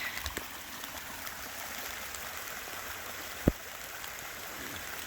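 Small river or stream running past, a steady broadband rush of flowing water, moderately quiet and continuous, with a single sharp knock partway through.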